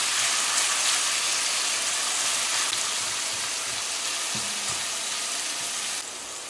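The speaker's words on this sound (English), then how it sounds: "So we're going to let this fry up for about a minute or so." Potatoes fry with added seasonings in a pan, giving a steady, dense sizzle that holds evenly throughout and drops slightly near the end, with no talking.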